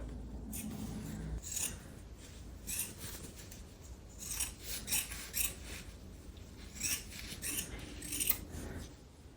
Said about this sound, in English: I trimmed up all the edges